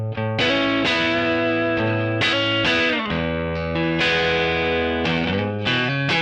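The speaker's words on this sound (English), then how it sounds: "Here's what it sounds like with the added room reverb." An electric guitar played through a Kemper amp profile with added room reverb rings out in distorted chords and notes, each strike sustaining and decaying into a roomy tail.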